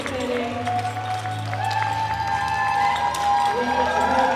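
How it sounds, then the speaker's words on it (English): An arena audience applauding at a European classic powerlifting championship, with sustained crowd clapping and cheering over a steady tonal background. "we give you a big round of applause"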